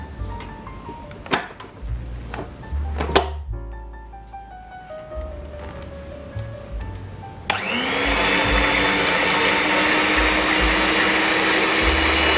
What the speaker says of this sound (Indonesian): Kita lihat dia mixer telur 7 ini berapa lama ya dengan kecepatan paling tinggi.